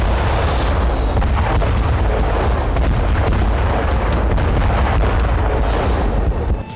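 Heavy explosions from Israeli air force bombing at night in southern Lebanon, a continuous deep rumbling roar with repeated booming bursts layered over one another, loud and sustained until it fades slightly at the end.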